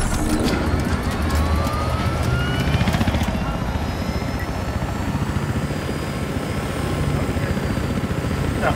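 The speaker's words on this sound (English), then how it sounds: "Looks like a transport chopper." A transport helicopter's rotor chops loudly and continuously overhead in the video game Battlefield Hardline, with a mechanical whine riding on top of the steady thumping.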